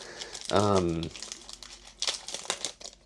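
Foil packs of Topps Chrome 2024 F1 trading cards are torn open, giving close crinkling and ripping bursts, with a voice speaking over part of the sound.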